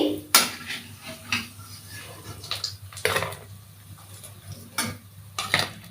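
Masoor dal fritters lifted out of a frying pan, with scattered clinks of utensil against pan and light stirring scrapes over a faint low sizzle, fairly close and intermittent.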